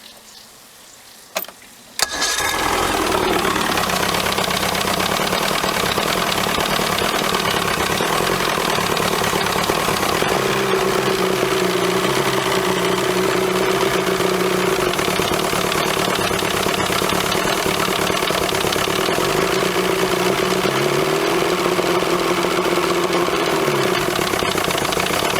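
A small boat engine cranks and catches after a couple of seconds of quiet, then runs at a steady, loud, close idle with a constant hum for the rest of the stretch.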